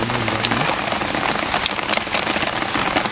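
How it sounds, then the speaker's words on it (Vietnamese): Steady, heavy rain patters densely on a surface, a loud continuous hiss with a brief low tone at the start. "Mưa nữa, mưa hoài luôn."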